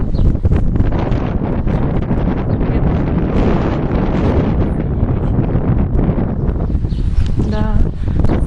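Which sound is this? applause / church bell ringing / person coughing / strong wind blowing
strong wind blowing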